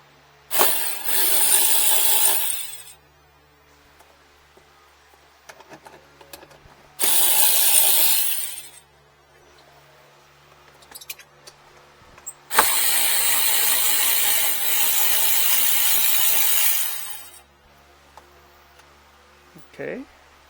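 Socket ratchet loosening a bolt while a Toyota RAV4 Prime horn is replaced, in three bursts of rapid close clicking, the last and longest running about five seconds, with quiet gaps between.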